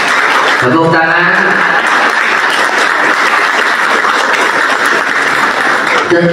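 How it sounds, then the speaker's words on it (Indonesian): Sustained audience applause at a public talk: loud, dense clapping that runs steadily for several seconds after a brief spoken phrase, with a voice returning at the very end. "Tepuk tangan."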